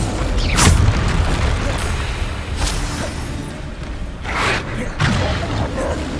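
Repeated explosions from the Bombarda blasting spell in the game Hogwarts Legacy, several sharp booms a couple of seconds apart over a loud, busy backdrop of combat noise, with a voice calling out in between.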